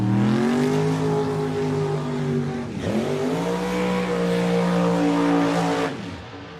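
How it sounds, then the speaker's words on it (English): A Jerry Haas-built Chevrolet Top Sportsman drag race car at Bradenton Motorsports Park roars loudly and close, its engine pitch climbing, dipping briefly at a gear change and climbing again before the sound drops away near the end. "Here comes the Jerry Haas built Chevrolet top Sportsman car that's gone 230 here"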